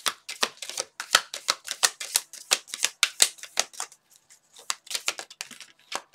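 Tarot cards riffled and shuffled by hand, a rapid run of crisp papery flicks close to the mic, a brief pause, then a few more snaps as cards are drawn; no talking.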